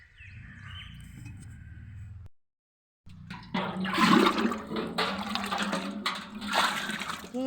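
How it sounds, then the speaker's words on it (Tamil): Water being poured onto plants makes a steady splashing gush up close, cutting out briefly before resuming louder and more turbulent, with no talk over it. "கீழே சிந்தாமல் வேஸ்ட் பண்ணாமல் எல்லா செடிக்கும் ஊற்றுங்க ஃப்ரெண்ட்ஸ்."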